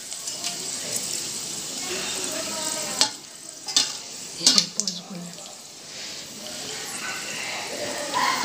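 Whole spices, bay leaf, dried red chilli, cumin seeds, cardamom, cinnamon and cloves, sizzle in hot oil for a Bengali chicken kosha, a steady crackling fry broken by a few sharp metallic clatters of a spoon or pan.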